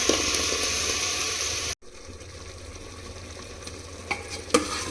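Ground masala paste drops into chickpeas frying in hot tempering oil for a kadalekalu sambar, a loud steady sizzle that cuts off abruptly, then quieter bubbling with a couple of stirring clinks, no voices.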